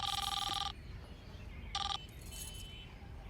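A telephone rings twice in a home during a family quarrel, two bright electronic bursts separated by a pause, fairly loud over a noisy room background with no clear talk.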